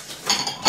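Glass plates being handled, giving a brief cluster of soft clinks and clatter, close by and with no talking.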